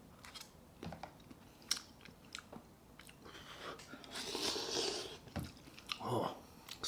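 Crunchy vegetables such as lotus root from a self-heating instant hot pot are chewed close up, with soft irregular bites and crunches at low volume.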